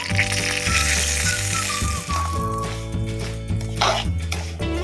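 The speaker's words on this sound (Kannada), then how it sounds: "ಸ್ವಲ್ಪ ಹೊತ್ತು ಹೀಗೇನೆ ಇದನ್ನು ಫ್ರೈ ಮಾಡಿಕೊಂಡ್ರೆ ಸಾಕು" Bombay rava frying in ghee in a pan, a constant close sizzle with stirring scrapes throughout, accompanied by a steady hum in the background.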